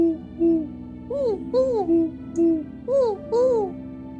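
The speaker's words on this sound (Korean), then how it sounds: "그때 마침 스마트폰이 울리며 올빼미 울음소리 알람이 울렸다." A smartphone owl-hoot alarm plays repeated hooting calls with a rising-falling, owl-like tone in a steady pattern, close and clear, resembling an electronic alarm sound.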